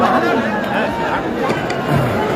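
Dense crowd chatter at a political rally in Patna: many overlapping voices form a steady, loud hubbub with no pauses, close and enveloping.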